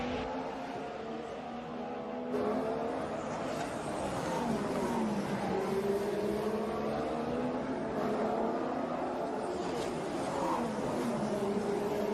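In the F1 2022 video game, an Aston Martin Formula One car accelerates out of the pit lane during the Australian Grand Prix, its loud, steady engine whine rising and dipping through gear changes.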